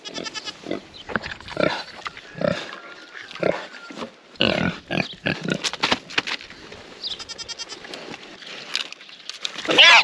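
Several pigs on a homestead grunt and squeal close by while being fed, in irregular bursts with a sharp squeal near the end; a voice talks over the animals at times.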